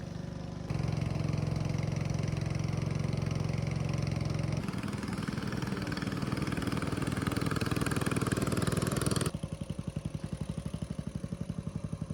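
A peki peki motor canoe engine runs steadily on a river in the Peruvian Amazon, a close, loud mechanical drone whose pitch and pulse shift a couple of times.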